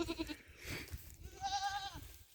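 Dairy goats bleat in a small herd, a string of wavering calls from a couple of animals at moderate distance, with no talk over them.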